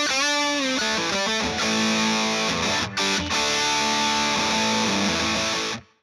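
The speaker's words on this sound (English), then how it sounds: "is the RAT, Proco RAT 2 distortion pedal." A heavily distorted electric guitar through a ProCo RAT 2 distortion pedal plays sustained chords and notes, thick and buzzy, ringing loudly before cutting off at the end.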